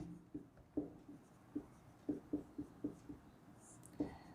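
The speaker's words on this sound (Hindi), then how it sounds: "अर्थात मैं परिभाषा लिख देता हूं" Chalk taps and strokes on a board as a definition for a number system lesson is written out, a series of faint, separate clicks and scratches in an uneven rhythm in a quiet room.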